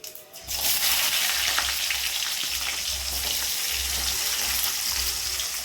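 Fenugreek, cumin and onions sizzle loudly in hot oil, starting abruptly and hissing steadily throughout over a faint low rumble.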